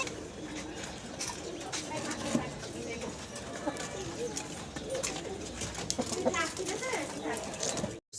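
Large white Mundian fancy pigeons coo softly in a busy loft, their low murmurs blending into constant background noise and faint voices throughout.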